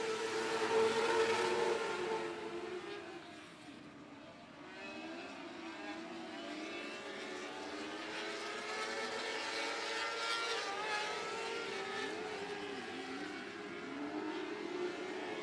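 Race cars roar around the oval at 105 Speedway at the green flag, engines droning and shifting pitch as the pack passes, loud at first then settling into a steady, distant rumble.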